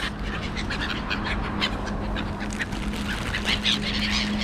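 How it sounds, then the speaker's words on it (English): Seagull calls ring out repeatedly over a steady low hum, with several overlapping squawks from a flock at moderate distance. "The largest group of birds we have here at the moment are the seagulls."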